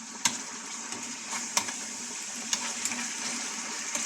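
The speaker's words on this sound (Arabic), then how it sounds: "باش نسمعوا هذاك الزيت كيتشحر مزيان" Hot oil crackling and sizzling in a pot while Moroccan hot pepper sauce cooks, a steady close hiss broken by a few sharp pops, with no talking.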